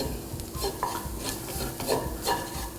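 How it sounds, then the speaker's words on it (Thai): All-purpose flour is stirred in a hot pan as the base of a tuna white sauce: repeated scraping strokes of the spoon over a continuous soft sizzle, close and fairly quiet. "ผัดเล็กน้อยพอให้แป้งสุก"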